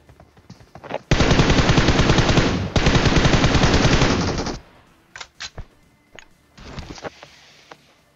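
Sustained bursts of automatic machine-gun fire in the mobile battle-royale game PUBG Mobile on the Erangel map, loud and rapid across about three seconds, then short scattered shots and a final brief burst.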